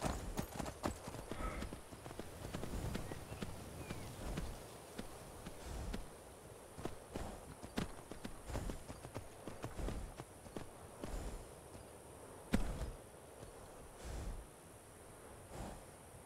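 Steady clip-clop of horse hooves at a trotting gallop in the video game Skyrim, fairly close, with an ongoing low rumble beneath and a few louder thuds along the way.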